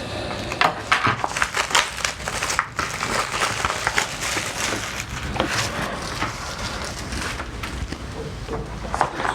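Crinkling and crushing of a sealed tempered glass screen protector pack for a Samsung Galaxy S21 Plus being torn open, with close, continuous crackly plastic and packaging rustles and sharp tearing bursts throughout, no talking.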